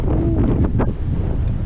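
Wind blasts into the microphone on the Black Mountain Pass in Wales, a brief, loud, low buffeting rumble with a gusty swell midway.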